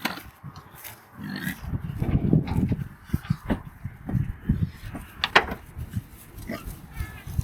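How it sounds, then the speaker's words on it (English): Pigs grunt and oink in a farm paddock where boars are being sorted from sows, with irregular close snorts and grunts coming in bursts throughout, alongside some rustling movement. "Come on, pig."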